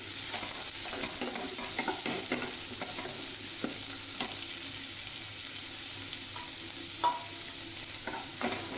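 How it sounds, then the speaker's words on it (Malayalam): Sliced onions fry in hot oil in a pan, making a steady close sizzle broken by scraping stirs and a few clinks of the spoon, with no talk. "അപ്പോൾ നമ്മൾ ഈ സവാള ഇട്ട് കൊടുക്കുകയാണ്."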